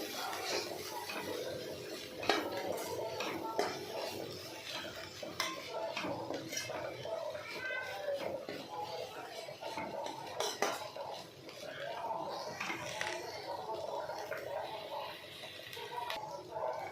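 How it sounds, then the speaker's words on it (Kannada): Freshly ground coconut stirred into a beans palya in a pan with a spatula, a close, continuous series of metallic scraping and clinking strokes over soft kitchen background. "ಇದು ನಾನು ಕೊಕೊನಟ್ ಗ್ರೈಂಡ್ ಮಾಡ್ಕೊಂಡು ಇಟ್ಕೊಂಡಿದ್ದೀನಿ. ಸ್ವಲ್ಪ ಹಾಕ್ಕೊಂಡು ಚೆನ್ನಾಗಿ ಮಿಕ್ಸ್ ಮಾಡ್ಕೋಬೇಕು."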